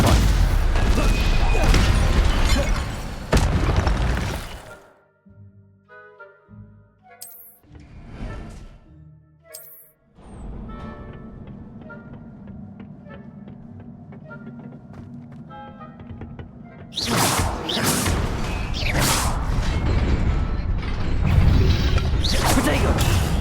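The Stupefy spell is cast in the video game Hogwarts Legacy, with loud booming, whooshing combat impacts at the start and over the final stretch, and quieter mechanical and tonal effects in between.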